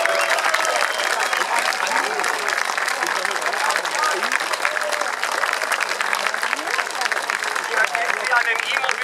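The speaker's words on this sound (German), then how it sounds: "Auch ganz großer Applaus." An audience at the eMobility Parade in Berlin bursts into sustained, dense applause, a loud, continuous wash of many hands clapping with crowd murmur and voices beneath it.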